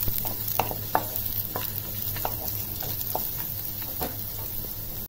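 Onion and garlic sauté in a pan for a tomato chutney, a steady close sizzle broken by regular spatula taps and scrapes against the pan, with no voices.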